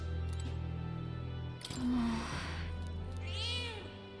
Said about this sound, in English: Is it literally just a cat?